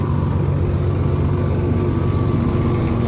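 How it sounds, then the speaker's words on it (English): Tractor engine idling steadily after a day of haying, a continuous low rumble with a faint whine, close and unbroken throughout. "Let my tractor cool down for a little bit"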